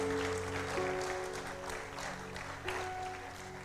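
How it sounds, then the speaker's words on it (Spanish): A church congregation claps for the Lord during a Spanish sermon, a fairly quiet wash of applause under held keyboard chords, with a few sharper claps standing out. "Dale un aplauso al Señor."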